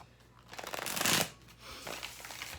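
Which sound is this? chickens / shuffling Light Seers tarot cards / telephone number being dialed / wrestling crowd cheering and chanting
shuffling Light Seers tarot cards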